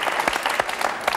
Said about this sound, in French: On applaudit l'homme invisible.